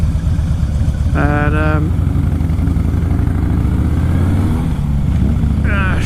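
A motorcycle engine running steadily at idle close by, a low continuous rumble under brief moments of talking.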